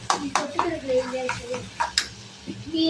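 Onion and tomato frying in a pan for prawn gravy, with stirring clinks and scrapes of a spoon against the vessel over a soft sizzle, while someone talks throughout.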